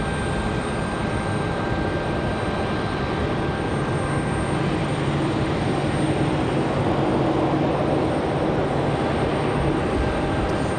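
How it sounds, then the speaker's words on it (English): Steady broadband roar of a JetBlue Airbus A220 airliner in new livery at Raleigh-Durham International Airport, continuous and fairly loud throughout with a thin tonal whine riding on top, no voices. "Got an A220 in the new livery for JetBlue."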